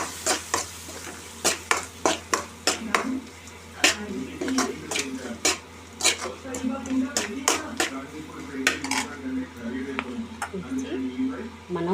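Egg masala frying in a pan with garam masala, coriander and fenugreek leaves, a metal spoon scraping and clanking in quick, irregular strokes over a faint sizzle, close and fairly quiet.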